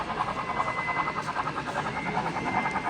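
A model locomotive pulling a long N&W Virginian coal train rolls along a show layout, giving a steady close whirring and rhythmic pulsing hum with no talk over it.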